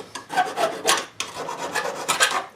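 A rasp filing burrs off a piece of copper, close and loud, in repeated rough back-and-forth strokes with a short pause midway, no voices.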